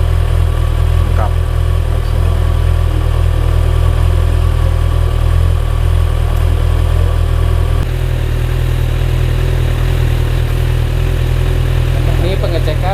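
A 2024 Kawasaki ZX-6R motorcycle idles during a fuel pump check, giving a loud, steady low engine drone that stays even for the whole stretch.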